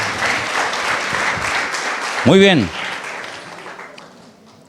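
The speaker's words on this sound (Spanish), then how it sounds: "Damos un aplauso a los hermanos en esta noche por su trabajo" A church congregation at an evening service applauds the members for their work, a full, even clapping that a man's brief spoken remark cuts across midway before the applause fades out.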